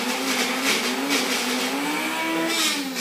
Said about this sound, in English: Now with this personal blender,